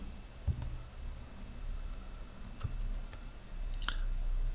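Sparse, quiet clicks and keystrokes on a computer keyboard while entering a cell reference in Microsoft Excel 2016, a few isolated taps over a low background hum.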